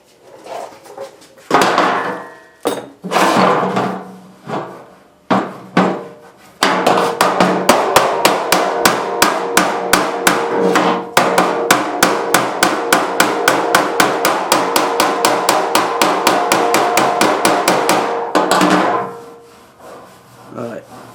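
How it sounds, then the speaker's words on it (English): Rapid hammer blows shrinking sheet metal on a Ford F100 tailgate: a few separate strikes, then a long, fast, even run of sharp metallic taps, loud and close, ending in a brief scraping rub. "might need a magic hammer for this one"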